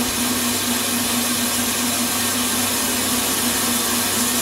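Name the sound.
fryer oil filter machine pump sucking oil through paper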